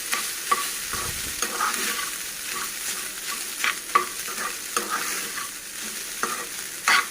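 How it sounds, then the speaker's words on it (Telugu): Cooled cooked rice is stirred through in a hot pan for a carrot, egg and fenugreek rice, with a steady sizzle broken by repeated scraping and clinking spoon strokes, close and fairly loud with no talking. "అన్నాన్ని ఇందులో వేసేసుకోవాలి. వేసుకొని బాగా కలుపుకోవాలి"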